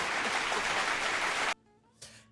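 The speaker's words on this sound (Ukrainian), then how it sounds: "і власне оце ми можемо і відсвяткувати бурними аплодисментами" Loud, dense audience applause at a Ukrainian public talk fills the first second and a half, then cuts off abruptly into near silence with a brief faint sound afterward.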